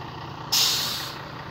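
A bus pulls up and stops, giving one loud, close air-brake hiss that starts sharply, then slowly fades over about a second against steady engine rumble.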